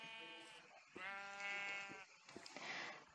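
A sheep bleats several times in quick succession, clear and fairly close, with short quiet gaps between the cries, in the video game Minecraft.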